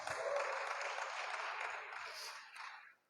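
A church congregation's applause at a worship service, a broad sustained wash of clapping that holds for about three seconds and then cuts off, fairly faint and distant.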